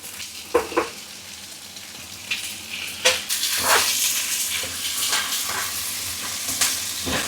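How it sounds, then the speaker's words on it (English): Sausages go into onions already fried down in a casserole dish, and a bright sizzle and hiss rises with clattering stirs and scrapes, close and moderately loud. "with the onions fried down in the casserole dish, we're going to go ahead and add the sausages"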